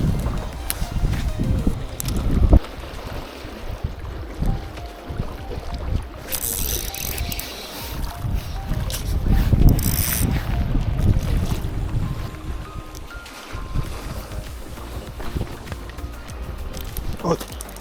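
Strong wind buffets and roars across the microphone while fishing from a boat at sea in gusty evening conditions, with rushing gusts throughout and a voice talking now and then.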